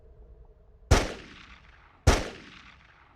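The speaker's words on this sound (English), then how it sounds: "All eyes turned to the source of the bang." Two sharp, loud gunshots about a second apart, each with a short decaying echo, used as a sound effect in a dramatized reenactment of a royal family shooting in a room.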